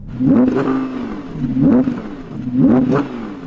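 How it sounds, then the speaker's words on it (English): An Audi R8 with a naturally aspirated V10 revs hard three times in a row, each loud blip climbing sharply and then dropping back to a rough idle. The car is close by and no one speaks. "So we have Nick, nice Nick from CarWow, who's going to be revving up the Audi"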